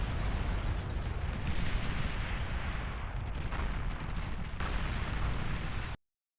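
Dense, continuous explosions from a bombing run in the strategy game Beyond All Reason, a loud rumbling roar of overlapping blasts that holds steady and then cuts off abruptly.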